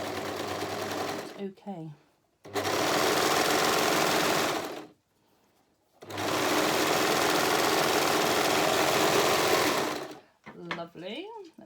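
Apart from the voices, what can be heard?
sewing machine stitching over double seams of a romper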